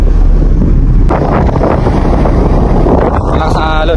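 Strong wind buffets the microphone on a ship deck in rough seas, in a loud, steady roar, with rushing water and a faint voice underneath.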